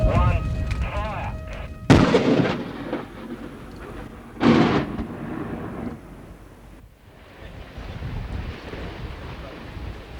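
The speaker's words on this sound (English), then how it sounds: "420 tonnes of explosives and 7 kilometres of surface detonating cord, the 850 metre section of wall was blasted" An 850 metre section of wall is blasted with 420 tonnes of explosives and surface detonating cord, giving two heavy booming blasts followed by rolling rumble and wind noise, with talk at the start.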